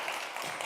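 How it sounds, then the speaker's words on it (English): Brief burst of audience applause in a conference hall, a dense, even wash of clapping from many hands at moderate distance, with no voices. "let's give her a round of applause"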